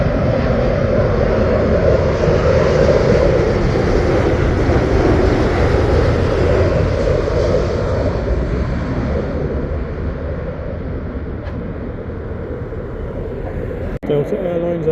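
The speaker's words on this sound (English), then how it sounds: "United Airlines Boeing 7879 Dreamliner" A United Airlines Boeing 787-9 Dreamliner lands at Heathrow with a loud, broad jet roar that slowly fades and softens, ending with a sharp click.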